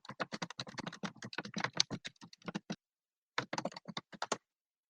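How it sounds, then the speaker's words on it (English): Rapid, uneven clatter of typing on a very clacky computer keyboard, bursts of sharp keystrokes close and clear, a brief pause, then another flurry of keys with no talk. "That's the clackiest keyboard I've ever heard."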